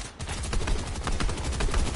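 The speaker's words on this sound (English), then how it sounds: "This man shooting from behind." Rapid bursts of automatic gunfire from a Fortnite match crackle continuously and loudly for two seconds, dense overlapping shots with no pauses and no speech.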